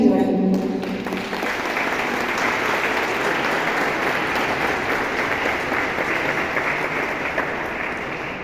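Steady, fairly loud audience applause welcomes the fifth council member at a civic cultural event in Tultepec, Mexico, with dense clapping sustained throughout after a voice finishes at the start.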